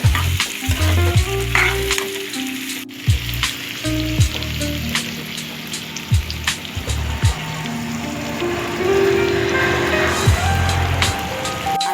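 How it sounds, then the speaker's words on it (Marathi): Three large onions sizzle and fry in a pan for ambadi sukat chutney, a steady hiss with intermittent stirring scrapes and clanks and low background rumble throughout, close and fairly loud. "तर कांदा आपल्याला परतून घ्यायचा आहे"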